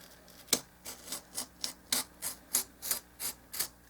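A blade scrapes through stiff foamcore board at a steep angle in about ten rhythmic, raspy strokes, each a short gritty hiss, close and fairly quiet.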